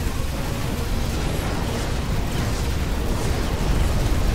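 A starship or space station blows up in a sci-fi starship action roguelike game, a loud, continuous, rumbling explosion with dense crackling that sustains throughout without letup.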